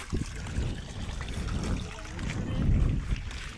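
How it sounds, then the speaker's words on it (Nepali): The Rautela hill stream rushes and gurgles through hilly terrain, a continuous low wash of flowing water mixed with gusty outdoor rumble. "यो चाहिँ खोला हाम्रो रौटेलाको खोला हो गाइस"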